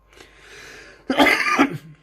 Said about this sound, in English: there's that cough I was talking about